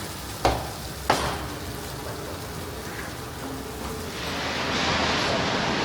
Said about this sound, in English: Oh, I can smell the fat as well sizzling there.